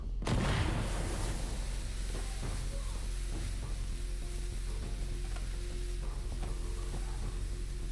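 Incendiary grenade burning in the tactical shooter Insurgency: Sandstorm, a steady loud crackling roar after a sharp initial burst, continuous and dense throughout with faint low rumbles beneath.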